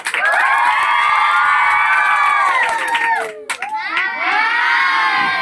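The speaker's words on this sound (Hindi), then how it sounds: "एक चिल्लाटी भरी हो जाए।" A crowd of schoolchildren at a classroom quiz cheers and shouts loudly in sustained high-pitched yells, briefly dipping before rising again into a second burst of shrill cheering.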